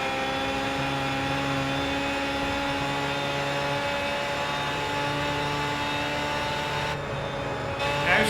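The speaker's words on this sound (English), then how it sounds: "I'm still hitting the rev limiter." A car in Gran Turismo 5 holds its engine at the rev limiter, a loud steady high-pitched drone with a pulsing stutter underneath that dips briefly near the end.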